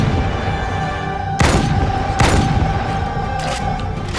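Explosions and weapons fire boom out in Halo 2: Anniversary as turrets are attacked, with two heavy blasts standing out above a loud, continuous rumble of combat.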